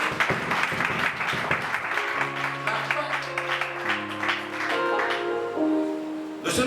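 A church congregation applauds, with a burst of dense clapping at the start that gives way to sustained keyboard or organ chords while the clapping continues more loosely underneath.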